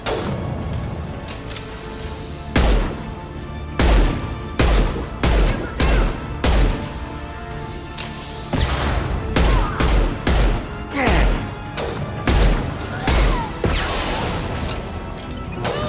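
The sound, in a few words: rifle gunfire in the video game Mass Effect 2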